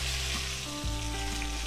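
Mustard seeds, cumin, asafoetida and curry leaves sizzle in hot oil, a dense, continuous crackling hiss heard close up for a brief moment.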